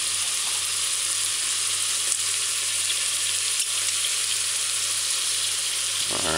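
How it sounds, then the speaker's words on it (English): Pork stew pieces seasoned with browning stir-frying quickly over high heat, giving a constant loud sizzle with a couple of faint utensil clicks. "kind of stir fry it quickly, kind of brown the pork stew pieces"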